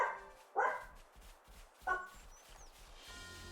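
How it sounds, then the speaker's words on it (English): Several dogs bark in short bursts, with two loud yaps standing out over quieter scattered yips and a faint whimper in the background. "I'm so sorry about the doggos barking."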